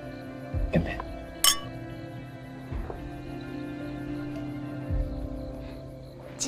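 Two glasses clink together in a toast during a dinner scene in a dating video game, with a couple of bright, brief chimes over a soft music bed.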